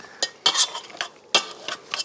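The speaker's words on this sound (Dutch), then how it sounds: "En dan het onovertroffen instrument voor onze eigen stoem te maken. Een stoemper." A stoemper, a hand masher, works through stoemp in a pot, making repeated wet squelching and scraping strokes in an irregular rhythm, close and alone.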